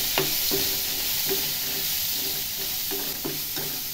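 Onion, curry leaves and garlic sautéing in a pan for a bitter gourd fry, with a constant sizzling hiss close up and a series of evenly spaced spatula scrapes.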